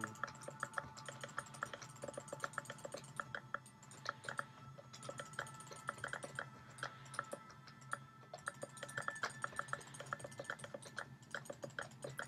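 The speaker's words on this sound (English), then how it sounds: "Spamming away at this keyboard right now." Steady, rapid keyboard typing with crisp clicks in bursts and short pauses, close up over a faint low hum.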